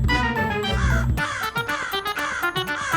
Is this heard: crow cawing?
yes